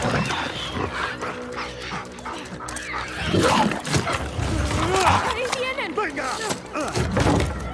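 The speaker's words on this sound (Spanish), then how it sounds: "¡Oh, perro!" Dog in The Last of Us Part II, heard as short barks and whimpers during gameplay, mixed with game music and effects while people talk over it.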